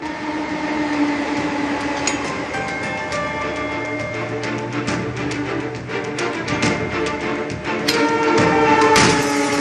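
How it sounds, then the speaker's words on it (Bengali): A train in motion gives a steady rumbling, rattling roar with metallic squeals and clanks building louder toward the end, no voices. "পুলকারে ট্রেনের ধাক্কা"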